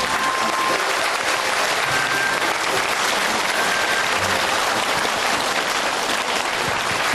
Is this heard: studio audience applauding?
yes